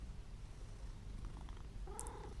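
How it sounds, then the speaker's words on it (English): A cat purrs softly and close by, a faint low rumble that runs throughout, with a brief higher sound near the end. "He's purring."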